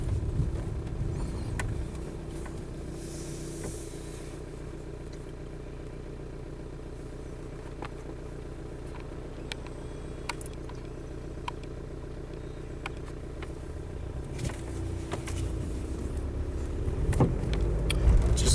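A Volkswagen car cruising along a road, its engine holding a steady low drone with tyre and road rumble, plus occasional light clicks and ticks inside the cabin, close and continuous with no talking.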